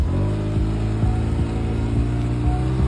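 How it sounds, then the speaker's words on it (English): A car imported from Japan idles with a deep, steady engine and exhaust burble, close and continuous, with a few brief throttle blips rising and falling in pitch. "I'll go ahead and show you how the car sounds."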